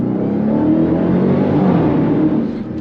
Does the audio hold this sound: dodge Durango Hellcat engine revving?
yes